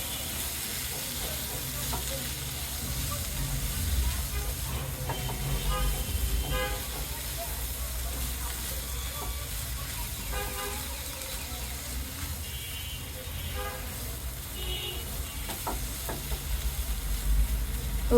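Green beans with coriander leaves fry in a pan, stirred with a continuous sizzle and intermittent scraping, while faint horn-like toots sound in the background.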